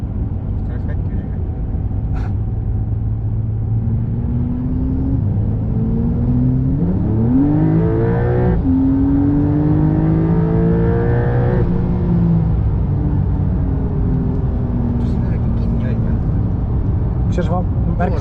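Inside a Porsche on the Audru Porsche Ring race track, the engine pulls away from rest and revs climb steadily through several gears, then settle into a steady drone, with voices talking in the cabin.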